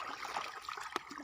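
Water from a river beside a hut trickles and burbles quietly and steadily, faint and close, with a few small splashy bursts.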